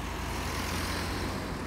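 Main-road traffic near Upminster Bridge station in Upminster, heard as a steady, dense roar of passing vehicles with a heavy truck-like rumble, continuous and fairly near, with no voices.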